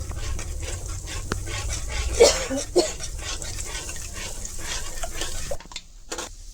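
Spoon stirring yogurt into Bengali note shaak (amaranth greens) with a potato, poppy seed and mustard mixture in a hot pan, a steady soft sizzle with scraping strokes and a couple of sharper clinks midway.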